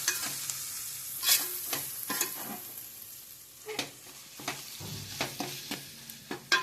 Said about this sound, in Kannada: ಇಲ್ಲಿ ನಾನು ಕರಿಬೇವಿನ ಸೊಪ್ಪು ಹಾಕ್ತೀನಿ ಇದು ಕೂಡ ಅಷ್ಟೇ ಆಯಿಲಿಗೆ ಹಾಕೋದ್ರಿಂದ ಏನಾಗುತ್ತೆ ಸಿಡಿಯತ್ತೆ